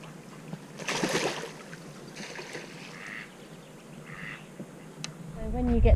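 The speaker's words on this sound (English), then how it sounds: "Oh, 2 ducks." A couple of ducks quack in short bursts at a moderate distance over a low narrowboat engine hum, with a voice briefly speaking near the end.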